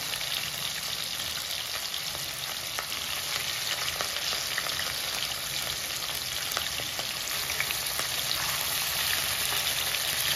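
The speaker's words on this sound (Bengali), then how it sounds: "এই মাছগুলোকে আমি এখন অল্প ভেজে নেব, বেশি ভাজা যাবে না।" Pieces of rui fish fry lightly in hot oil in a home kitchen, a continuous close crackling sizzle with scattered pops and spits, steady and fairly loud with no talking.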